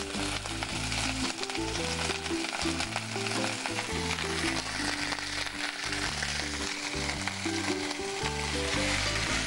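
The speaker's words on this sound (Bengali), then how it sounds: "মূলোটাকে একটু নেড়ে নেবেন।" Radish cooks in a pan with a little water for a Bengali fish-head and cabbage dish, giving a continuous close sizzle over steady background music with no talking.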